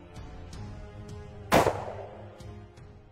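A single loud rifle gunshot during a hunt cracks out in the middle, decaying quickly, with faint clicks and a low rumble before and after.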